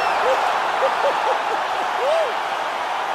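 Arena crowd cheering after a knockout in the UFC 4 video game, a broad, steady wash of cheering noise with a few squeaky shoe-like chirps, loud and continuous.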